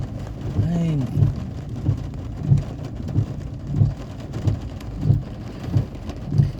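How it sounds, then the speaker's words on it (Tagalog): Very heavy rain pours steadily during a drive, with a regular thumping roughly every two-thirds of a second and a low rumble early on. "sobrang lakas ng ulan"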